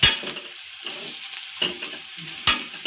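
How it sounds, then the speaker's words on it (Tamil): Vermicelli (semiya) frying in a pan for a quick recipe, with a steady high sizzle and a few louder scraping stirs landing at irregular intervals, close and alone with no talk. "அப்படியே ஃப்ரை பண்ணிக்கலாம்"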